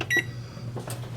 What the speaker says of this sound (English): We're gonna set a timer